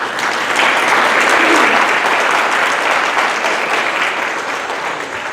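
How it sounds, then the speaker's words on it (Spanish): Audience applause at the opening ceremony of a law conference in Trujillo, a dense, steady clapping from a large crowd that holds strong throughout and tapers slightly at the end. "que lo recibimos con un aplauso."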